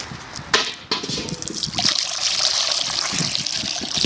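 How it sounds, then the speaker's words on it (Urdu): Water poured out for goats to drink, a steady splashing trickle that grows fuller and continues without a break, fairly loud and close. "یہاں سے پانی لے لیے ڈال دیتے ہیں"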